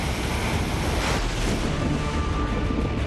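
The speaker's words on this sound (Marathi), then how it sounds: "भीमाशंकर अभयारण्यातील प्रसिद्ध कोंढवळ धबधबा प्रवाहित झालाय" Kondhwal waterfall in Bhimashankar sanctuary pouring in a steady, dense roar of rushing water, continuous and loud throughout with no voices.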